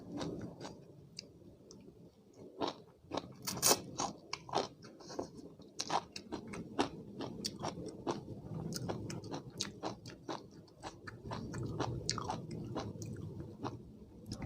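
Someone eating Thai pounded bean salad with rice noodles, close up: steady moist chewing with frequent crisp crunches and bites, continuing throughout with no talking.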